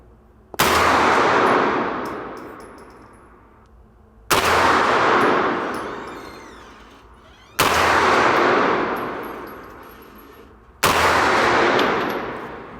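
Four sharp, loud gunshots ring out at a shooting range, evenly spaced about three seconds apart, each with a long echoing decay.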